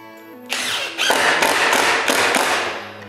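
A power tool bevel-cuts one edge of a wooden soffit piece in a workshop. A loud, harsh whining roar starts abruptly, wavers through the cut for about two and a half seconds, then drops back to a low motor hum.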